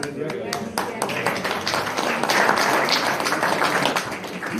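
A meeting audience gathered to discuss local woods and walks gives a dense, steady round of applause lasting several seconds, with voices faintly mixed in.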